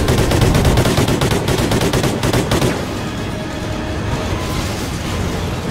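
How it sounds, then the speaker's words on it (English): Rapid automatic gunfire rattles loud and dense in Call of Duty: Ghosts for about three seconds, then gives way to a continuous rumbling battle din. "I'm getting shot from everywhere!"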